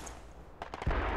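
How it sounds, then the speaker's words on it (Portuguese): A burst of rapid gunshots erupts after a quieter stretch, sharp cracks followed by a loud, dense volley of gunfire in a forest in the video game Project Reality 2. "Muito tiro dentro da floresta."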